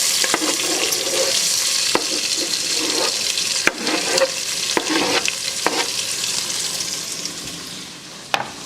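Onions cooking in oil in a pot for a fresh tomato shrimp curry, a close, loud sizzle with repeated stirring scrapes and a few sharp clacks, fading slightly at the end.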